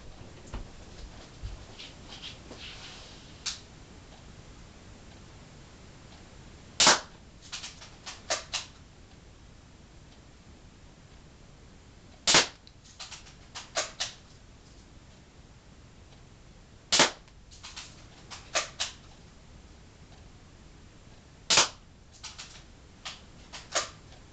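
A Daisy Grizzly 840c air rifle fires indoors, four sharp snapping shots at spaced intervals, each followed by faint clicks and rattles of handling in a quiet room.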